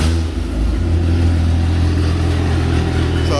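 A kart with an R32 engine fitted fires up and revs, giving a loud, steady, close-up rumble that holds throughout.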